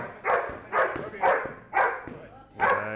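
An 11-month-old German Shepherd barks during a bite-work sparring drill, five loud, evenly spaced barks up close with some whimpering tone, no other voices.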